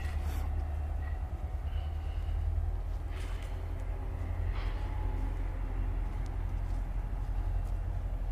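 Two Norfolk Southern helper locomotives climb the grade at Horseshoe Curve in Altoona, Pennsylvania, a steady heavy rumble of diesel engines and rolling wheels, loud and continuous, with no horn sounding.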